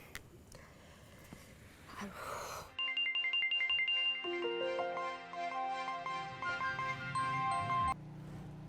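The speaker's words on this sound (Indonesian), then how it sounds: "Telepon." A telephone rings with a melodic electronic ringtone, a steady sequence of bright tones lasting several seconds at close range, preceded by brief rustling and a moment of quiet.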